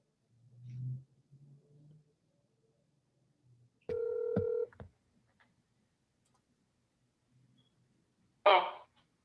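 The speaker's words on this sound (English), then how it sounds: "I'm calling you from the city of Baldwin Park." A telephone is dialed to reach a public caller during a city council webinar, heard as a short tone burst with brief clicks, set among faint low murmurs and a final soft noise burst in an otherwise quiet line.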